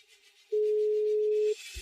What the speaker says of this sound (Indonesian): Aku telepon Bella.